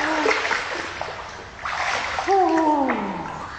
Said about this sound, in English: Finlay, ready, steady, splash